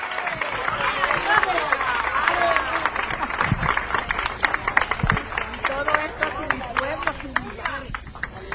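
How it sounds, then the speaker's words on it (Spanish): A church congregation claps together during a Spanish-language service, a dense run of rhythmic clapping close by, with voices mixed in beneath it. "Un aplauso grande, hermano, fuerte."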